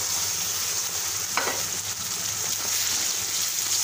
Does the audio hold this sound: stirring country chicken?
yes